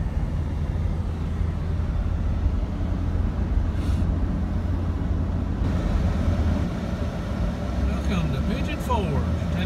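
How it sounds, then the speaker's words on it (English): A steady rumble of road traffic in the mountains at Pigeon Forge, vehicles passing continuously with a low, even roar. "Just a little bit of traffic."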